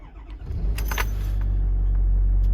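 A 2011 Ford F-550 utility service welding truck with 112,722 miles starts up nearby: a brief jingle and crank, then the engine catches and settles into a loud, steady low rumbling idle.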